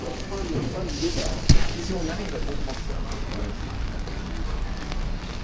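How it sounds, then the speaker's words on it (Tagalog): Heavy rain pours steadily on a street in Paris, a dense, continuous wash of noise that holds at an even level throughout, with one brief sharp knock partway through. "guys, lakas ng ulan."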